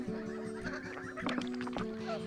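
A domestic goose in Québec gives a few faint, nasal honks in quick succession, heard alone and fairly quiet at a distance.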